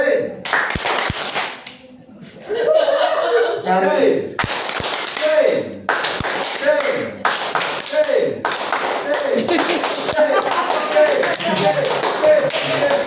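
Audience clapping in rhythm during a public speaking training session in a mosque, with repeated sharp taps in short patterned bursts under a leader's talk that fills the spaces between them.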